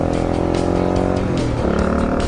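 A 2004 Honda XR400R dirt bike held at wide open throttle on flat ground, a steady loud engine drone with a rising, shifting pitch toward the end, close to the listener.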